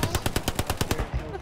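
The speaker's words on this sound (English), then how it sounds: "Shoot him, Alana, shoot him." Gunfire in the World War II game Hell Let Loose: a fast automatic burst of about nine loud, evenly spaced shots, then a trailing echo.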